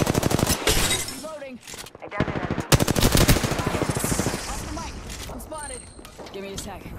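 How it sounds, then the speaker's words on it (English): Rapid bursts of automatic gunfire crack through a video game shootout, loud close strings of shots broken by short pauses, with voice lines and game tones heard between the volleys. "They spotted me. I'm taking shots. Opening fire."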